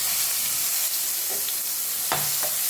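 Chopped green onion and tomato go into hot oil with cumin and asafoetida in a pan, setting off a steady broadband sizzle with a couple of sharper crackling bursts near the end. No one speaks.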